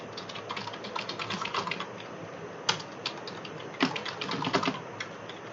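Fast typing on a computer keyboard while entering names and marks into spreadsheet cells, a close, continuous stream of key clicks with a few louder presses and no talk.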